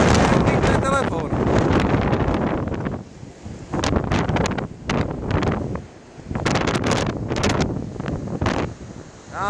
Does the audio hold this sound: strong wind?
yes